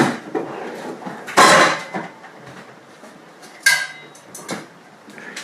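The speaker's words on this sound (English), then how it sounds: "I have here two large" Large metal stock pots clank and bang in a home kitchen, a few sharp loud knocks with scraping and lighter rattles between them, close up.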